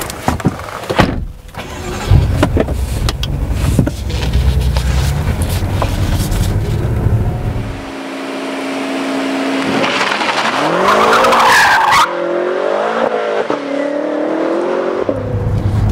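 A BMW M6 fitted with the M Competition package and its different exhaust roars loudly as it accelerates hard, with rising engine notes, gear changes and squealing tires near the end.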